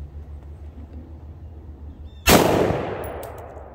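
A gunshot strikes a ceramic armor plate that is already broken apart, a single sharp, loud crack with a ringing tail after a stretch of quiet outdoor background, followed by faint metallic pings.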